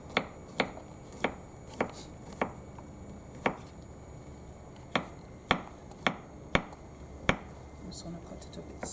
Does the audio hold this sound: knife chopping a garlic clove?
yes